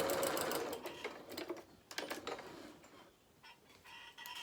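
A sewing machine runs a reverse stitch along the seam of a soft toy bear in a few quick, close whirring bursts separated by brief pauses.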